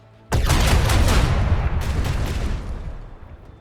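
A heavy ship-weapon salvo in Warhammer 40K Rogue Trader erupts as a dense, loud burst of overlapping booming shots that rumble on and slowly fade over a few seconds.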